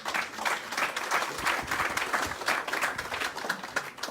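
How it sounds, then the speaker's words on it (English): A crowd at a presentation for veterans gives a steady round of applause, dense clapping sustained throughout with no talk over it. "Round of applause for yourself."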